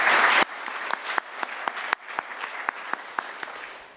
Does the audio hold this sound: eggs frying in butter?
no